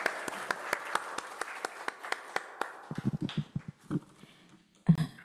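A lecture audience for a guest lecture on artificial intelligence in dentistry claps for the speaker, a few sparse claps at first that quickly thin out, fairly faint.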